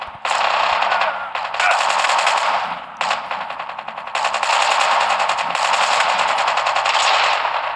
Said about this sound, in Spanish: Me voy a disparar por aquí.